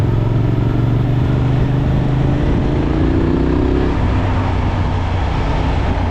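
Suzuki V-Strom 800SE motorcycle engine running steadily while riding, a loud continuous drone with a pitch that rises briefly as it revs, mixed with constant road and wind rush throughout.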